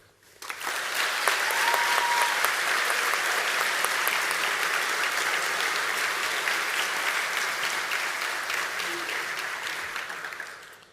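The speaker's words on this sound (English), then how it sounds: "I think you all deserve a round of applause." Sustained applause from an award ceremony audience, a dense steady roar of many hands clapping that rises quickly, holds loud for about ten seconds, then fades out near the end.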